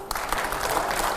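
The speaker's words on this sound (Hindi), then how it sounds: "जोरदार तालियां हो इमरान साहब" An audience applauds during a live talk show, producing a short, dense burst of clapping that stays loud and even for just over a second.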